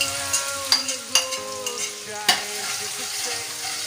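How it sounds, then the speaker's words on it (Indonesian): Garlic and spice paste sautéing in a hot pan for a teri and petai stir-fry, a steady close sizzle punctuated by several sharp clinks and scrapes of the spatula stirring. "Ayo lanjut yuk kita tumis bumbunya ya"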